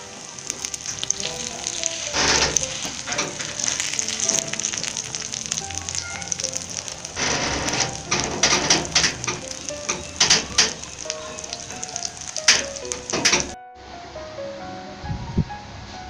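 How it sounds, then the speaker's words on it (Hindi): Potato tikki patties frying in oil in a pan, a continuous loud sizzle with crackling bursts as they are flipped, close and steady, fading to a quieter hiss after a brief break near the end. "हमारी टिक्कियाँ फ्राई हो रही हैं, इनको पलट रही हैं।"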